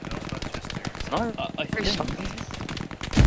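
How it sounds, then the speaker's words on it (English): Gunfire in the World War II shooter Hell Let Loose, short sharp reports and bursts scattered through the clip, moderately loud, with people talking over the shooting. "do you know where these bullets are coming from?"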